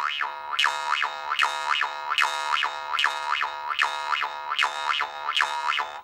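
Jaw harp twanging in a steady rhythmic pattern, each pluck carrying a bright, wah-like vowel sweep, played close and moderately loud with no talking.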